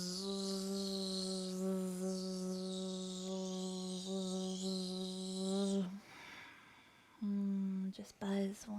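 A group hums a sustained bee-like buzz with their voices, imitating a bee in a yin yoga class; the drone holds for several seconds, then breaks off into brief breathy sounds before a short second buzz.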